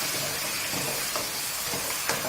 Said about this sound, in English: I'm just going to continue frying the meat till it's very, very dark in color and brown.